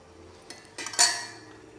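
Fried tomatoes being tipped into a metal mixer jar, with a few close clinks and scrapes of a utensil against the jar and a brief louder clatter.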